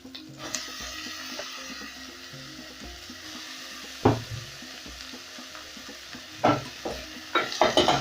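Onions fry in a pan with a low steady sizzle, broken by a few sharp spoon scrapes and stirring clatters against the pan under quiet background music.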